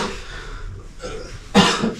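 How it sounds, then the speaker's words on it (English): A person coughs once, a short loud burst near the end after quiet room tone, close to the microphone. "Why do you have this bad"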